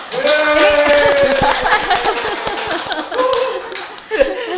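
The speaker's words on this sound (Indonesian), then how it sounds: "Kita tepuk tangan bareng-bareng ya nanti buat ngiringin." A small group claps a steady beat along to a slow Christmas song in a podcast studio, crisp regular claps running under singing voices, with a loud clap near the end.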